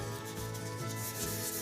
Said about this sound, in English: all I'm doing now is just focusing on making sure I've got all the sanding marks out from the previous grit